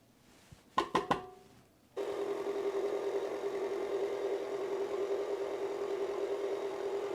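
Electric mixer creaming sour cream tea cake batter: a few clicks and knocks, then the motor starts and whirs steadily and close, with a constant buzzing tone.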